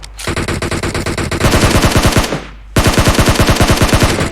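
A rifle fires in rapid bursts in the PUBG Mobile video game, loud and close. It gives two long strings of shots with a short pause between them.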